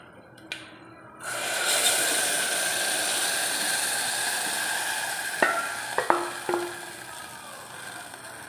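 Kalathappam batter being stirred in a cooker pot, a steady close hiss and swish after an initial quiet moment, followed by a few sharp utensil clinks and knocks against the vessel near the end, with no talking.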